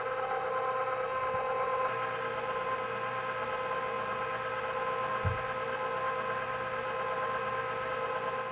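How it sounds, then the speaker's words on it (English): An electric mixer running steadily on low speed, beating egg whites for a toasted marshmallow cake frosting, a constant close whirring hum with one small knock partway through. "I'm going to beat this on low speed until it thickens up and turns opaque."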